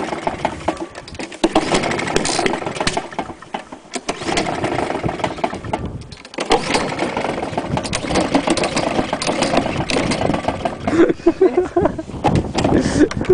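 Honda lawn mower engine with no blade fitted, run on white spirit, sputtering and revving with an uneven, rough mid-pitched drone and brief dips where it nearly stalls, loud and close throughout.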